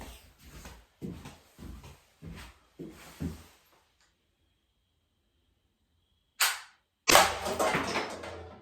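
An HDR68 CO2 air pistol fires a quick, close series of about six sharp pops. After a few seconds of silence comes a brief hiss, then a longer rushing burst of escaping gas.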